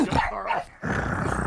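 A man imitates a growling dog with a rough, throaty snarl, loud and close, that breaks off briefly and then resumes as a steady rumbling growl.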